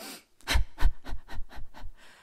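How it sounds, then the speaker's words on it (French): Rapid stressed panting demonstrated in a yoga breathing lesson: about seven quick, close, loud breaths in a steady rhythm, with no talk over them. "vous allez vous rendre compte que vous haletez"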